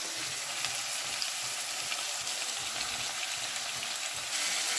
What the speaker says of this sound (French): quand les oignons sont déjà cuits comme ça, je mets la tomate